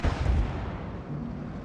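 A single heavy shot from a 105 leFH18B2 self-propelled artillery piece in a tank video game booms loudly up close, then its low rumble decays across the rest of the moment.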